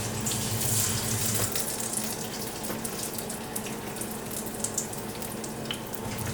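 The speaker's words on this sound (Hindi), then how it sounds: "अब मैं ड्रम स्टिक्स आपको डीप फ्राई करके दिखा देती हूँ" Chicken drumsticks deep fry in oil over a low flame, producing a dense, continuous bubbling hiss that stays loud and even throughout.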